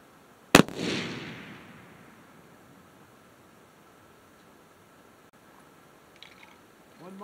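A single .25-06 rifle shot with a 115-grain bullet cracks loudly at the start, its boom rolling off into a long fading echo across open ground, followed by quiet and faint movement near the end.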